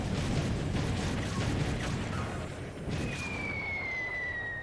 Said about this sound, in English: Explosions and action!